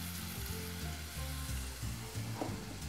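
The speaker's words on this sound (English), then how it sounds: "I have a little piece of the pan francese, the pan d'Avignon's pan francese, delicious country white bread. And just fry that in there." A piece of country white bread frying in extra virgin olive oil sizzles loudly and steadily throughout, a dense hiss over a low tonal background.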